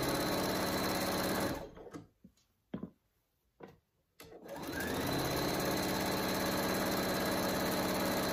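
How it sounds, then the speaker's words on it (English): A sewing machine stitches a bag lining in a loud, steady whirr, halts for a couple of seconds with a few faint clicks, then resumes its continuous run. Close and alone, with no voices. "So I sewed the lining piece together."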